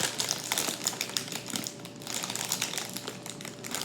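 Close, crackly crinkling of a plastic corn-snack bag being handled while someone struggles to open it, with continuous sharp rustles and crunches and no talking.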